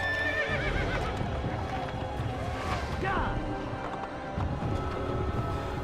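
Horse hooves clip-clop steadily with a horse whinnying in Assassin's Creed, under a faint musical bed; no one speaks.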